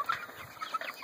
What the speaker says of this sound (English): Checking back in on the chickens.